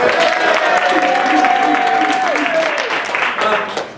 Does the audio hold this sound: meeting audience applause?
yes